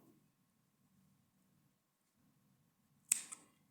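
Scissors cut red yarn in a quiet crochet setting: after near silence with a faint background hum, a single sharp snip lands near the end.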